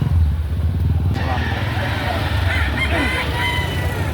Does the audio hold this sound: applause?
no